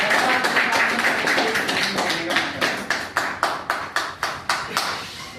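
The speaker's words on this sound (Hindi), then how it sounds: "मैं आप सभी साथियों की जोरदार तालियों के साथ में महेंद्र सर को स्टेज पर इनवाइट करना चाहूंगा" An audience at a business training event claps loudly and steadily, starting as dense applause and settling into slower, rhythmic clapping in unison near the end.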